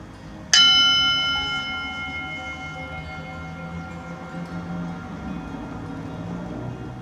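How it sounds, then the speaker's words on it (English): A mindfulness bell struck once, ringing out clearly and then sustaining a long, slowly fading tone over quiet room noise. "I'll just ring the bell"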